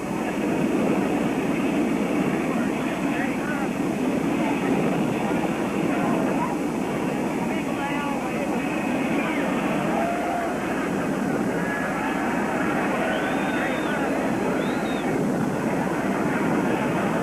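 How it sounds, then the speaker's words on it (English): The presidential jet carrying President and Mrs. Kennedy arrives and taxis at the airport. A loud, continuous jet engine roar fills the scene, mixed with crowd noise and voices talking. "Here comes the big jet in."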